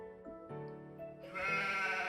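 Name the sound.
sheep bleating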